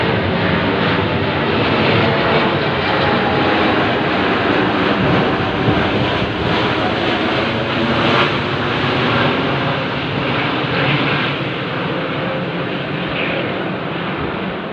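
An aircraft flies overhead, producing a loud, continuous broadband engine roar that holds steady and eases slightly toward the end.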